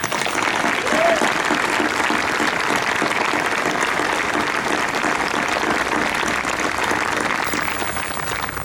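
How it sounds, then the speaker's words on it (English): Steady, dense applause from a large commencement audience, sustained at an even level for the whole stretch with no talk over it. "with our applause to show our appreciation and respect."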